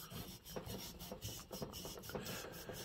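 Scotch-Brite pad scrubbing an old engine cylinder, a steady close rasping rub with rhythmic strokes that rise and fall in quick succession, faint overall and with no voices.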